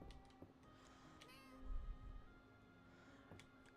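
A cat meows in the cozy farming game Fields of Mistria during a winter day, a short soft call over steady game music and background chimes, fairly quiet.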